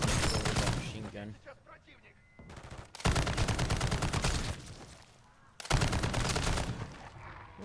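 Machine gun bursts in Call of Duty MW3 Zombies come in three loud, sustained volleys separated by short pauses, with a voice speaking over the shooting.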